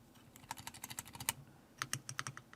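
Typing on a Yunzii B75 Pro Max mechanical keyboard fitted with linear switches: quick, close, soft non-clicky keystrokes in two bursts with a short pause between, no voice.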